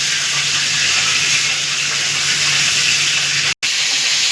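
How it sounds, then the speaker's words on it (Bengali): Prawns fry in a large wok in a loud, steady hiss of sizzling oil. The sound is close and continuous, with one brief cutout near the end and no voices. "খুব বড় বড় সাইজ কড়াইতে অল্প অল্প করেই ভাজবো।"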